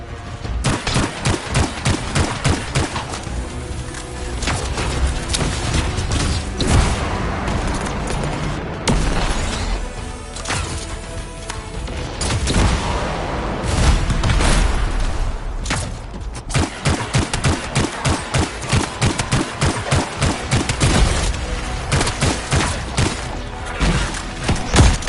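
Turrets in the game Anthem fire continuously amid loud rapid gunfire and heavy thumping impacts, a dense, sustained barrage with occasional booms, no voices.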